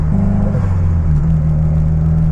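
Subaru WRX engine rumbling as the throttle is released, with a steady low drone and a faint rubbing or rattling texture underneath, heard from inside the car with no talk.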